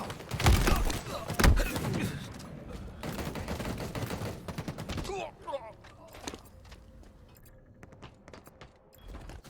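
Gunfire in Halo Infinite Slayer multiplayer, bursts of rapid shots with a couple of loud heavy hits early, then fainter scattered shots and clicks as the action fades, with a voice talking over part of it.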